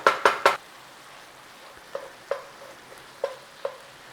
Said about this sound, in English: Fluid cooking off now, look.